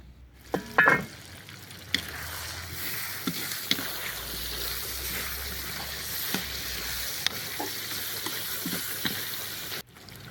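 Carrots hit onions frying in a kazan for kuyrdak, a Kazakh fried lamb dish, giving a steady, close sizzle throughout with occasional sharp clicks of stirring.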